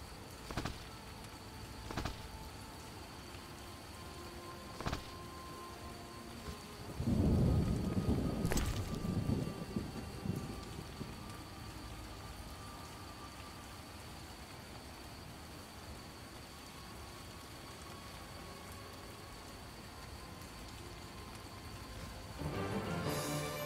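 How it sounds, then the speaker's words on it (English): Rain falls steadily on the outskirts in The Witcher: Enhanced Edition, with a deep rumble of thunder rolling in partway through, a few sharp clicks earlier on and a faint return of the noise near the end. "Some rain."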